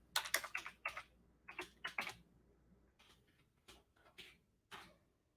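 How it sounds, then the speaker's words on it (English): Typing on a computer keyboard during a live real estate exam prep lesson: irregular clusters of sharp close key taps in short bursts with brief pauses, fairly quiet, with no talk. "Well, I thought I was typing it."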